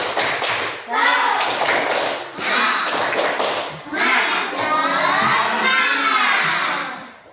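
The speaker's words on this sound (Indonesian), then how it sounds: "Ya, silakan tepuk semangat bersama-sama. Tepuk semangat." A fifth-grade class of children performs a rhythmic clapping chant in a classroom, with loud group claps in patterned bursts mixed with their shouted chanting voices.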